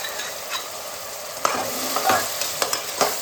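Ground raw tomatoes sautéing in a pan for chana biryani: a loud, continuous frying sizzle, joined partway through by repeated close scrapes and knocks of a stirring spoon against the pan, with no one talking.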